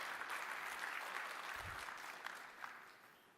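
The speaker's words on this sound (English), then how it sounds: "Can we please give Wilson a big round of applause from Hong Kong?" Conference audience applause after a keynote introduction, a continuous, fairly quiet patter of many hands that tapers slightly toward the end.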